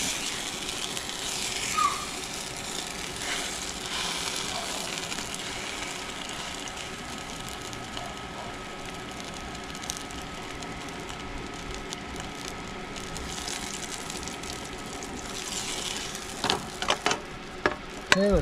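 Steady hissing sizzle of a birria taco frying in oil in a frying pan, with a few clinks and scrapes near the end, no voices.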